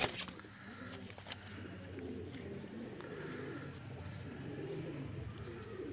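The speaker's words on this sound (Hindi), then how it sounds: "बहुत अच्छा कबूतर है खूबसूरत" Rampuri pigeons coo softly in repeated low, throaty rolling calls, moderately close, with faint background murmur.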